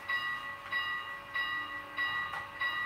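Model train running on a home layout, a steady rolling rumble with a ringing bell repeating at regular intervals over it, moderately close.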